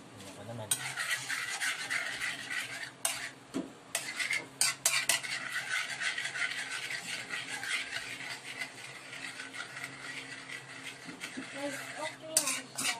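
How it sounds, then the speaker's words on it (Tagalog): A spoon stirs thickening melon jam in a metal pot, with repeated scraping and clinking strokes in a busy, irregular rhythm at close range, while people talk quietly in the background. "Sige ikaw, haluin mo."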